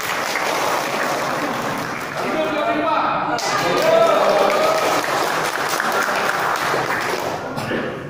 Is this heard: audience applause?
yes